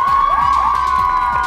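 Studio audience fan groups on a TV show cheer loudly and steadily, a dense, continuous crowd roar with a sustained tone running through it and no clear speech.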